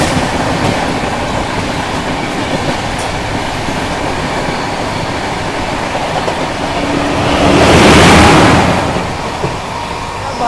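The Bihar Sampark Kranti Express runs along the track with a steady loud rumble and clatter, swelling into a louder rushing pass near the end.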